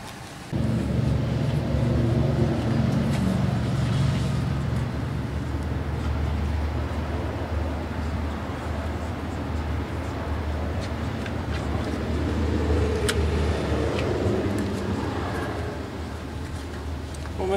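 A Dodge Ram pickup fitted with an HHO generator drives toward a gas station, its engine and road noise forming a steady low rumble from inside the cab that lasts the whole time.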